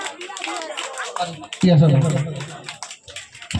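Applause from an audience at a district yoga competition's judges' welcoming ceremony in South 24 Parganas, a dense patter of claps that thins out, then a loudspeaker voice talks over the fading tail.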